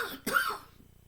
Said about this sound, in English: Sorry, I'm coughing again.